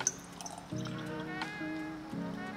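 Milk pours from a carton into a stainless milk jug while making a basic latte, a steady low gurgle that runs in two or three long stretches with brief breaks, close and fairly quiet with no talking.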